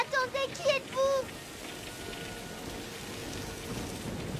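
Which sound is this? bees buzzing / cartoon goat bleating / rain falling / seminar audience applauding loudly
rain falling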